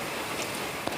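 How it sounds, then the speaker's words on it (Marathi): Heavy rain mixed with hail pouring down near a riverside fish market, a dense, loud, continuous patter that fills the whole moment, with no voices. "इतका जोरात पाऊस आलाय ना आता तर, आणि डायरेक्ट आहे ना गाराचाच पाऊस पडायला लागलाय."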